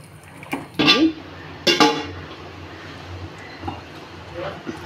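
Mutton biryani with masala stirred in a pot, giving a few scraping, clinking strokes of a spoon against the metal around one and two seconds, followed by softer faint scrapes.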